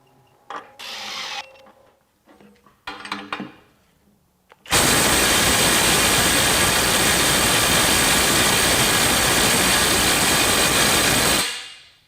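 A Kobalt 24-volt right angle impact wrench hammers continuously at full power for about seven seconds, loud and steady before cutting off, preceded by a few short, lighter bursts of handling noise.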